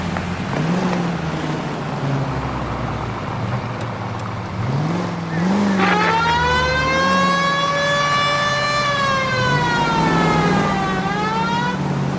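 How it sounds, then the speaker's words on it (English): A police car siren wails in the 1940s Los Angeles setting of the video game L.A. Noire. It rises and falls in long sweeps over a steady engine rumble and grows louder and higher in the second half. "We have a siren."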